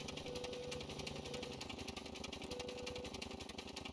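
A vehicle engine in the building game Scrap Mechanic runs steadily, with a fast, rough, pulsing chug like a jackhammer, loud and close throughout, with no talk.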